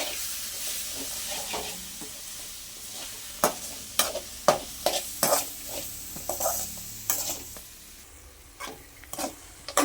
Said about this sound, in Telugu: వేసుకొని ఒక టూ మినిట్స్ వరకు నీట్గా వేయించుకోవాలి సిమ్లో పెట్టి